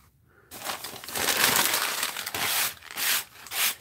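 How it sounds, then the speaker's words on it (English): Coffee grounds swept off a table by hand make a dry, gritty scraping and brushing sound in several close strokes, pausing briefly between the last few sweeps. "Excuse me a minute while I sweep my coffee grounds away here."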